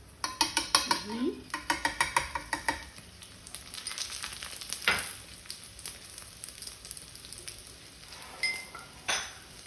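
Stuffed egg paratha frying in ghee on a hot pan, a steady close sizzle under rapid metallic taps and scrapes of a utensil early on, then softer crackling with occasional clinks.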